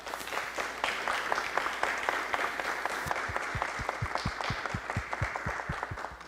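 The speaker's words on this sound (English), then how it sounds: "Let's give them a round of applause." A city council chamber audience applauds a Human Trafficking Awareness and Prevention Month proclamation, a steady round of clapping with several distinct close, sharp claps standing out in regular rhythm partway through.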